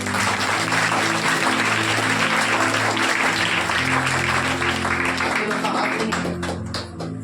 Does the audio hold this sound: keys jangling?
no